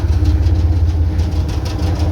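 The engines of a Ghogha–Hajira ro-ro ferry run with a steady, deep, low rumble that stays constant and loud, with no talk.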